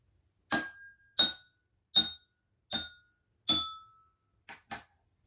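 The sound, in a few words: tapping five glasses with different water levels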